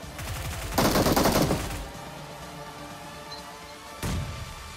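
Gunfire in the mobile shooter BGMI: a loud, rapid automatic burst lasting about a second, then a quieter pause and a second short burst near the end, over steady in-game background noise.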